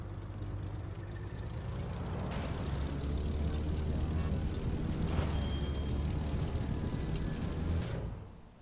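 An aircraft engine drones from the cockpit of a plane in the racing game The Crew 2, a loud continuous roar with short thumps and swells that fades out at the end.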